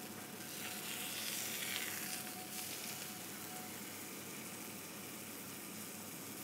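Food sizzling steadily in a hot frying pan, a continuous crackling hiss with no voices, at a moderate level and close by throughout.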